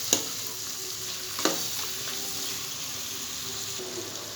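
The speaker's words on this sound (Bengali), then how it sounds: "হাই ফ্লেমেই থাকবে, আর এইভাবে নেড়ে নেড়ে পেঁয়াজগুলোকে খুলে খুলে দেবেন" Onions fry on high flame in a pan, giving a steady soft sizzle, with two sharp scraping clacks from a spoon stirring them and no voices.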